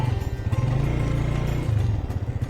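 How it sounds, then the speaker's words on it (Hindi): A motorcycle engine on a rough mountain road between Kaghan and Naran, a steady pulsing low rumble heard close and continuous under wind noise. "ये आगे मेरे नवाज़ जा रहे हैं बाइक पे।"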